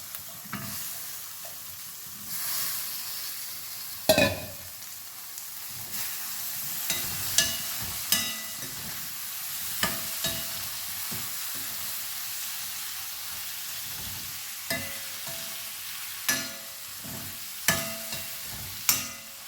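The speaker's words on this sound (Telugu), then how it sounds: "ఇప్పుడు ఇది క్యాప్సికమ్ ముక్కలు వేసేస్తున్నాను తాలింపులో" Capsicum pieces hit hot tempering oil in a curry pan, giving a steady close sizzle broken by repeated sharp clatters and stirring knocks throughout.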